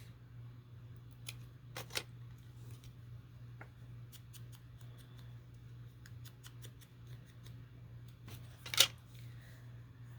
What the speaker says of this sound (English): let's just cut this in half